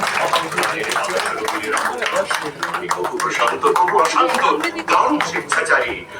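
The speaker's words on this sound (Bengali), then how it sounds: "আমরা তুলে দিচ্ছি স্মারকপত্র একটি জোর করতালির মধ্যে দিয়ে" A crowd at a Nazrul commemorative cultural program claps loudly as a memento is presented: dense, sustained clapping for about six seconds, with voices mixed into the noise.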